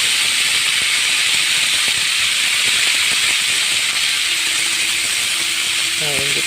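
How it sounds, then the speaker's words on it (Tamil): Chopped tomatoes sauté in a pan after onions for an avarai (broad bean) gravy, producing a loud, steady hiss throughout with a faint voice-like tone near the end. "தக்காளி நல்லா வதங்கட்டும்."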